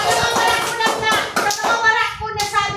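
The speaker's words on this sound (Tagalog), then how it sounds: "O, palakpak sa mga nasabi ko." A small group clapping hands in quick uneven bursts, close by, with a voice chattering over part of it.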